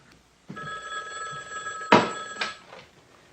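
A black telephone on a small table beside a red chair rings loudly and close, a single sustained electronic bell tone followed by a sharper burst, then a short trailing echo.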